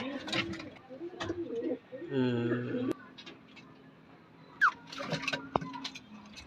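Male breeder pigeons coo in a loft, with low throaty coos up close, a brief chirp and some rustling, while a person talks at intervals.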